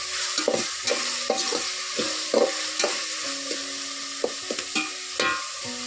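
Onion and tomato frying with chicken for biryani over a wood-fired stove, sizzling steadily under repeated scraping stirs of a spoon against the pot, close and with no talking.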